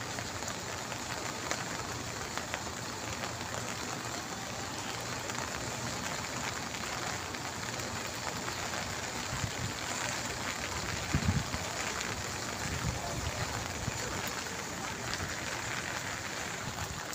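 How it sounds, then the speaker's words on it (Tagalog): Heavy rain pours steadily and loudly on surfaces for the whole stretch, a dense unbroken roar of drops with a few brief knocks near the middle. "Ayan, lakas ng ulan guys."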